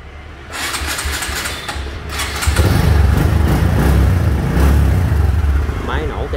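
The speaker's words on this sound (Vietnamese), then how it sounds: "Máy nổ cái hơi cực kỳ nhẹ" A Honda Future 125i motorcycle engine starting and running close by, a steady loud mechanical hum that rises and holds, with a person talking over it.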